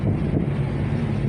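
Steady rushing wind on Réunion Island near Saint-Philippe buffets the microphone with a low, continuous rumble, loud and unbroken throughout, with no voices.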